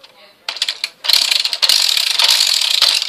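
A Nerf Strongarm blaster's cocking handle worked back and forth, giving loud, close plastic ratcheting clicks in rapid bursts that grow denser and continuous toward the end, with no talking.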